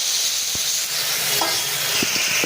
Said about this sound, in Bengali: এবার মশলাটা আলুর মধ্যে আমি দিয়ে দেবো দিয়ে ভালো করে কষিয়ে